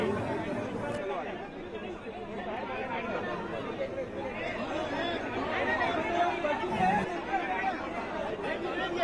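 A crowd of Shiv Sainiks gathered to welcome Sanjay Raut, a dense babble of many voices chattering and calling out continuously at close range.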